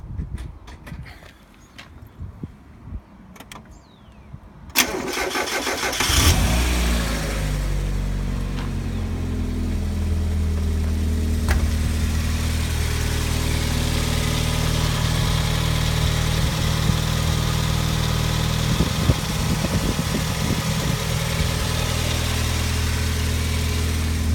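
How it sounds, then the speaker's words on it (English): An old car kept through the winter is started, catching after a few cranking bursts, then settling into a steady, loud idle that runs on without break, close by. "The engine's running"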